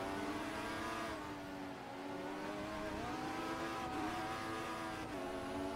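A race car passes on a circuit with a loud, steady engine roar and a rising and falling pitch, heard from a distance through a broadcast with no clear speech.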